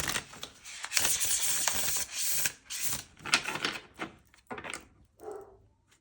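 A tarot card deck being shuffled with some difficulty: a dense run of papery riffling clicks and flutters that trails off into a few scattered taps near the end.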